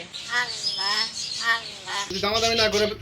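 Birds at a market stall selling pigeons, chickens and other fowl give a run of bright, rising and falling chirping calls, close and fairly loud, with a denser chorus in the final second.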